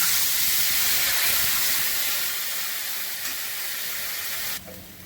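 Water hits a hot pan of frying cumin for a parshe fish and brinjal curry, releasing a loud, bright hiss of steam that fades gradually and drops off sharply near the end.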